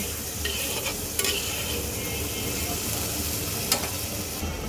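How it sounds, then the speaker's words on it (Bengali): Spice paste for a cabbage, pea and potato dish with fish head being fried down in a pan, a continuous loud sizzle with occasional sharp clinks of stirring, close and steady throughout. "তো চলো মশলাটাকে সুন্দর করে কষিয়ে নেই"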